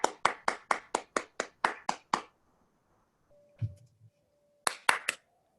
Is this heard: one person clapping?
yes